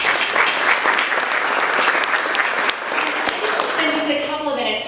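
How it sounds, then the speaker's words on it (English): Guests at a chancellor's luncheon give sustained applause to the sponsors, dense clapping with a few sharp claps standing out, tapering off as a voice begins near the end. "give a big round of applause for our sponsors"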